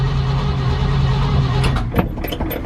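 A car engine on a carburetor with a dry carb cranks over with a steady loud churning drone, then breaks into rough irregular bursts near the end.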